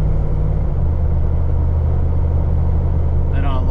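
Steady low rumble of a car engine held at light throttle, around 15 percent, with its 8HP70 automatic transmission, droning evenly and close, with a faint rising whine near the end.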